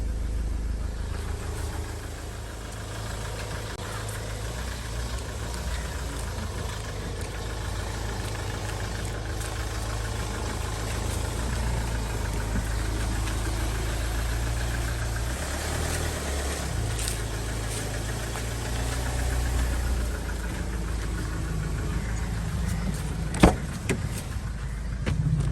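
Interior of a Mahindra XUV500 W10 with its engine idling steadily, a low continuous rumble lasting throughout, joined near the end by a brief sharp click.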